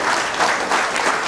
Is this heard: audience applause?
yes